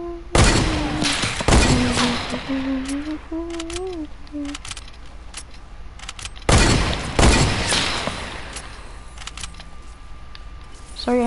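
Bursts of rapid video game gunfire crackle loudly at two points, each volley a dense cluster of sharp shots, with a voice talking between and over them.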